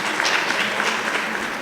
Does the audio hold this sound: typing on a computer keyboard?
no